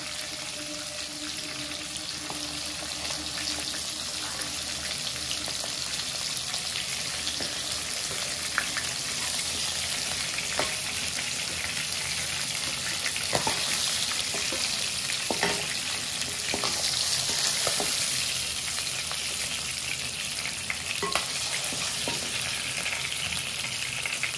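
Pieces of katla fish sizzle and crackle steadily in hot oil in a kadai, a dense continuous frying hiss with occasional sharper pops and stirring clicks, fairly close and without talk.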